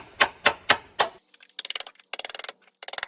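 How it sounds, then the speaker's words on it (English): A few sharp metallic taps ring out close by as a small screwdriver lightly taps car body metal, then bursts of quick rapid tapping in short clusters separated by brief pauses. "I'll use a little screwdriver and just kind of lightly tap it, and it'll come loose"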